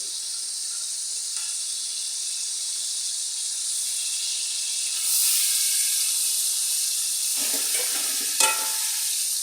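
Chicken frying for biryani gives a steady, loud sizzle and hiss throughout, with a few soft stirring scrapes toward the end and no talk.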